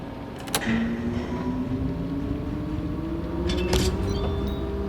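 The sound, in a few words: crane cab engine starting in the video game Docked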